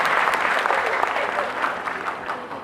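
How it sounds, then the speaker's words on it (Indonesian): A crowd of listeners at a Balinese-language instructors' evaluation gathering breaks into steady applause, dense and continuous from start to finish with no voices over it. "tepuk tangan"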